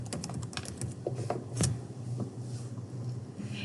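Search terms are typed on a computer keyboard in quick, irregular bursts of clicky keystrokes, close and clear, with a slightly heavier tap midway.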